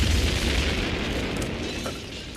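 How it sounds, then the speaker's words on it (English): A big cartoon explosion as the tanks aboard the G.I. Joe Equalizer blow, a loud, sustained roaring boom that fades slowly with no voices over it. "The equalizer's tanks are gonna blow!"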